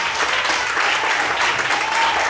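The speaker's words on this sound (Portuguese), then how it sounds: "Mais forte as palmas." Congregation in a church claps steadily together, a dense, lively burst of applause at close range with no clear voices over it.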